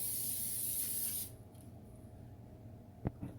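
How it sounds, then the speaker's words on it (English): Cooking spray hisses steadily onto a baking sheet for wings, a loud continuous spray lasting about a second before cutting off, followed by faint kitchen sounds and a couple of soft clicks. "Spray our sheet."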